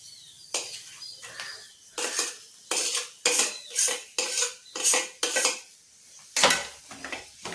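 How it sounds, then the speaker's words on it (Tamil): A spoon scrapes and clanks repeatedly against a metal pan while stirring a potato filling in a steady rhythm, close and fairly loud, with no talking. "நல்லா மசாலாலாம் சேர்ற வரைக்கும் வதக்கி"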